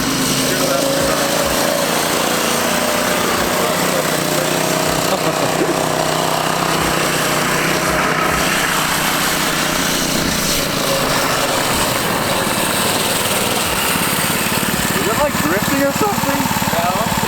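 A mini ATV's 212 engine fitted with a Mitsubishi head runs continuously at steady revs, its buzzing drone loud and close throughout, with a person talking over it.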